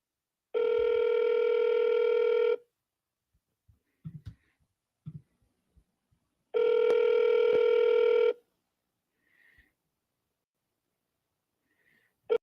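Outgoing phone call ringback tone: two long, clean electronic rings about two seconds each, spaced roughly six seconds apart, with faint clicks and line noise in the quiet gaps.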